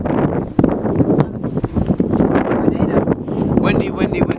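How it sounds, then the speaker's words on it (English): Wind buffeting a microphone while rolling down a road in Kansas, a continuous loud roar with gusty bursts and thumps, a voice faintly mixed in. "It's just windy."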